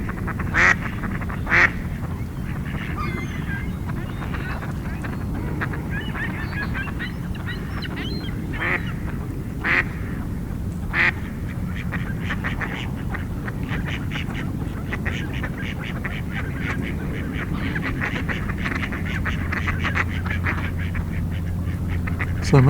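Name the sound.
ducks quacking, mostly mallards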